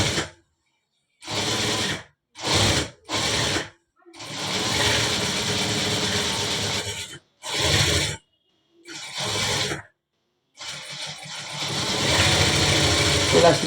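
A sewing machine runs in bursts while stitching a full-sleeve shirt, rapid mechanical clatter in short runs and longer stretches separated by silences, close up, with talk nearby.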